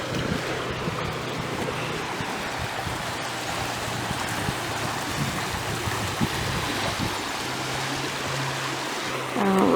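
Creek water swirls in an eddy at Brush Creek Park, a steady broadband wash of flowing water with wind buffeting the microphone and a faint low hum underneath, continuous throughout with no talking.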